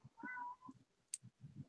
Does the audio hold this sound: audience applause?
no